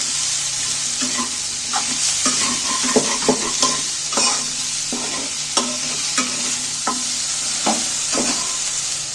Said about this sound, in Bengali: এখানে পেঁয়াজ আর কাঁচা লঙ্কা কুঁচো দিয়ে দিন এইগুলোকে একটু নাড়তে থাকবো